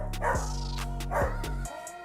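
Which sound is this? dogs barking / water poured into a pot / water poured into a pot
dogs barking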